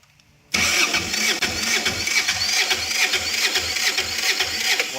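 A Kubota GL6500 diesel generator with a flat, half-boxer style engine cold starts after quiet, catching abruptly and settling into a loud, steady rhythmic diesel chug close by.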